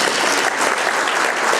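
An audience at a conference applauds loudly and steadily, dense clapping that fills the room without a break.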